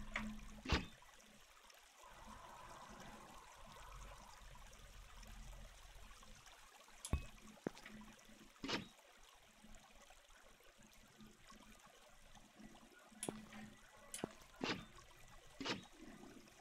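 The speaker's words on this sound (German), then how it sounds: "Ja, das Wasser vervielfältigt sich halt erstmal direkt." Water flows in the Minetest block-building game, a soft steady trickling stream under a low background wash, with several sharp clicks from block placing.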